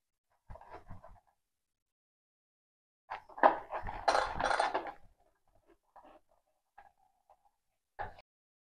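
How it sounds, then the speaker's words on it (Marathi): A knife cutting a small raw jackfruit in two on a kitchen surface, heard as a few close, sharp knocks and a dense crunching burst in the middle, separated by quiet pauses. "मी ह्याचे आता दोन तुकडे करते. चला तर आपण याला दोन तुकडे करूया."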